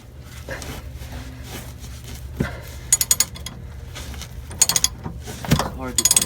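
A ratchet wrench clicks in quick bursts of sharp pawl ticks while tightening a tag axle bushing on a motorhome, heard up close in a garage with faint mechanical clunks between strokes.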